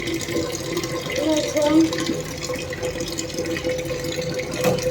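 Water poured into a pot for cooking rice, a steady running, splashing flow that carries on under a person talking.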